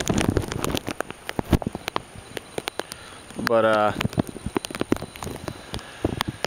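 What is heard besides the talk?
steady rain falling at night during Hurricane Isaac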